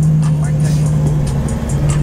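Car engine idling and rumbling close by at a Cars and Coffee meet, a steady low drone held throughout with light crowd and ambient noise layered above.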